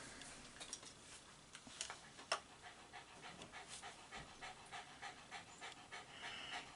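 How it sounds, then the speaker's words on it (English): Dog panting steadily on a warm day in a quiet workshop, rhythmic quick breaths close to the listener at low volume, with occasional faint clicks and ticks. "In case you're wondering what the panting is, that's my Falcor."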